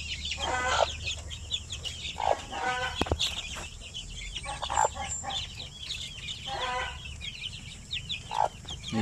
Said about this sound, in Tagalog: Ayan yung mga sisiw ng ating mga sampin, oh.